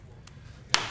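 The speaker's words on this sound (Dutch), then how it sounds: "Kijk, knetter lekker." A wood fire burning in a stove gives two sharp, close crackling pops about half a second apart, the second louder, over a low, quiet background.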